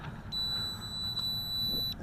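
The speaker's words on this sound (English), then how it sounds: "that long beep means the video camera is either activated or deactivated" An FQ777 mini drone gives a long, thin electronic beep as its onboard video camera is switched on or off, a faint steady tone with a brief click partway through, heard alone over low background hiss.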